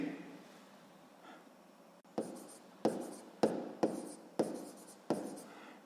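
Handwriting with a pen on paper during a sixth-grade maths exercise, a series of about seven short scratchy strokes in quick succession, close and alone.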